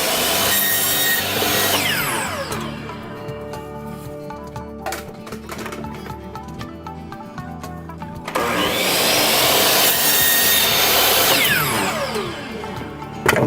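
A compound miter saw chops through bamboo in two loud whining bursts, spinning up, cutting, and winding down, with a quieter stretch between the cuts.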